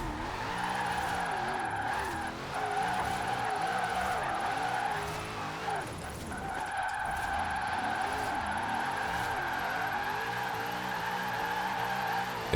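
A Koenigsegg drifts sideways in Forza Horizon 4, its engine holding a steady drone under a continuous tire squeal that carries on unbroken, dips briefly, then resumes.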